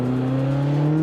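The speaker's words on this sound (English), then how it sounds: "the exhaust note is totally different than it was before" A turbocharged Mazda Miata's exhaust gives a steady, close droning hum with a clear low pitch, held for about a second.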